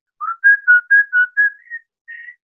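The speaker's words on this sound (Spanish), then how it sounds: "Mi papá silbaba las canciones." A person whistles a song alone, a clear, close melody of short, bright notes in a quick phrase, then a brief pause and one last held note.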